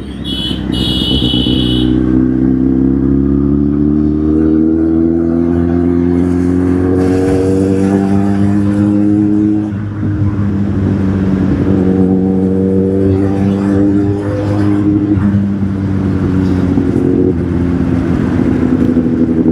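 A superbike's engine revs hard and close for the whole stretch, its roar climbing and falling in long sweeps between throttle blips.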